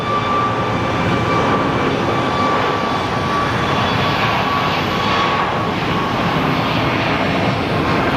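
Jet engines of the Nevada 1 airliner hum and rumble loudly as it taxis into position for departure at Sky Harbor Airport, a steady broadband roar with a thin high whine throughout.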